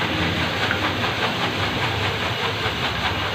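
Pitha rice cake frying in hot oil gives a dense, steady hiss and bubbling crackle throughout, loud and close with no pauses and no talking.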